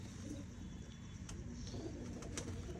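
A champion pigeon coos softly at a loft, low murmuring calls against a dense background hum, with a few faint high chirps from other birds.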